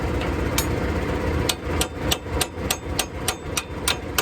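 A hammer taps repeatedly while a new McConnel 6565T hedge trimmer is being fitted, about a dozen sharp metallic blows in a quickening series, loud and close, with no speech.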